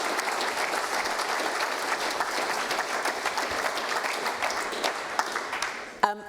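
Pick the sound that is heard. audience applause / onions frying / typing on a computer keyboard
audience applause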